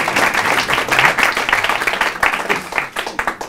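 An audience claps for a performer after his concert opening a public hypnosis evening, a brief lively round of applause, fairly close and loud, with scattered sharp claps as it fades.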